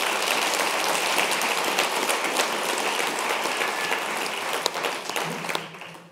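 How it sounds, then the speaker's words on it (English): Sustained audience applause fills the room, a dense steady wash of many hands clapping that holds strong before thinning out at the very end. "look at this wonderful audience here and the applause again"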